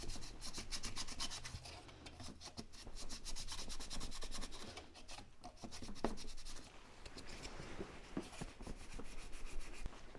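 Thermostat housing from a 5.7-litre C3 Corvette rubbed back and forth on a sanding block, a steady, close, rasping scrape that continues without a break and with no voices.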